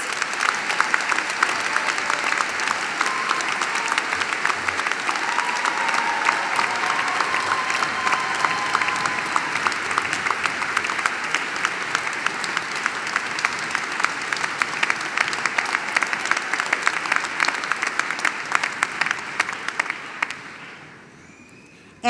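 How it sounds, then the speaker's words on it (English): Sustained, dense applause from a large crowd at a medical school commencement and Hippocratic Oath ceremony, steady clapping that holds for about twenty seconds before fading out at the end. "Let's give a round of applause and a recognition of these public"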